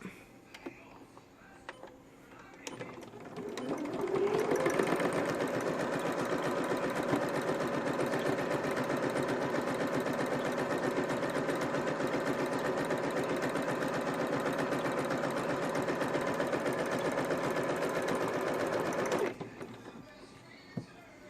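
A sewing machine runs a quarter-inch seam on a card slot, a steady, even whir that starts after a quiet pause, holds for about fifteen seconds and then stops.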